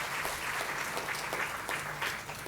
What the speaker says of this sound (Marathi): एकदा जोरदार त्यांच्यासाठी टाळ्या वाजवूयात.